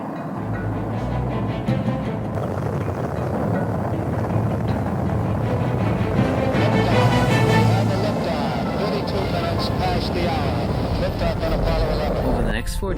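The Apollo 11 rocket engines roar at launch, a loud, continuous low rumble and crackle that builds and holds, with radio voices talking over it.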